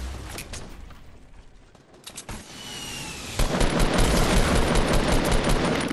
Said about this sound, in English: I'm getting shot at from Dusty